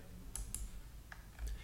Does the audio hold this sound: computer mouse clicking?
yes